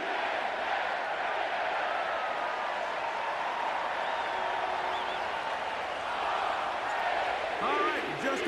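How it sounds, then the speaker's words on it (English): Dense, steady stadium crowd roar at M&T Bank Stadium in Baltimore from an EA Sports football video game, a constant wash of cheering that swells slightly near the end with no break. "The crowd is definitely ready."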